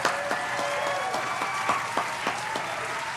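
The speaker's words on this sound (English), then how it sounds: "Everybody give Keebs a big round of applause." A live crowd at a DJ event claps steadily for a performer, dense, sustained applause with a few sharper individual claps standing out, fairly loud and close.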